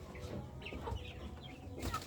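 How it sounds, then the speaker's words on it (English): Chickens cluck continuously inside a poultry house, with soft overlapping calls and a steady low barn hum filling the background. "So guys can see here is chicken."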